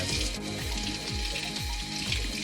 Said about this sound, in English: I need to wash off the tongue a little more